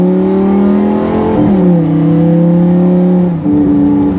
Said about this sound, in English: you can hear the throttle input increase and decrease in between shifts